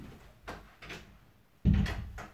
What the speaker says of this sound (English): I'm going to shut that door because that's annoying me.